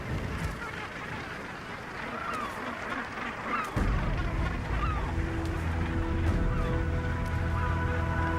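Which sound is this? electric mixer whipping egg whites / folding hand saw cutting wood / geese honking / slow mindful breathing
geese honking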